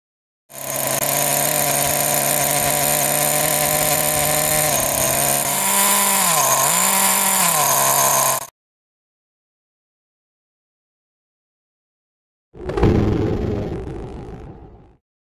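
A nitro RC car engine running in on a rich mixture, a loud, buzzy high-revving drone that holds steady for about eight seconds, wavers briefly, cuts to silence, then roars back up at the end.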